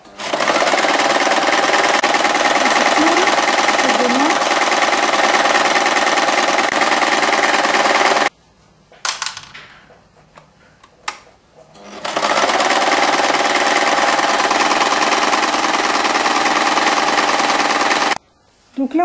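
A sewing machine stitches the sleeve head of a braided waistcoat, running in a long steady burst, stopping briefly with a few soft handling noises, then running steadily again, loud and close.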